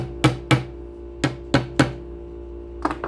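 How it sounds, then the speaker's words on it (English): A fret hammer taps frets into a bass guitar neck, five sharp close knocks in an uneven rhythm, then a couple of lighter taps after a pause. "You can knock these in with a fret hammer."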